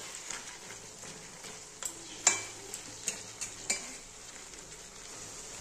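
Fried potatoes go into a pot of mutton kosha and are stirred, giving a faint low sizzle broken by several sharp scrapes and clinks of a spoon against the pan.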